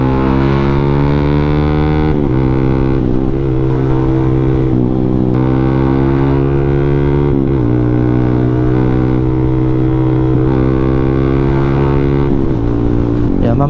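A Yamaha Sniper 155 motorcycle with a racing ECU and tuned exhaust rides on a highway, its engine droning steadily loud and close, pitch stepping up and down through gear shifts, with wind buffeting and occasional talk.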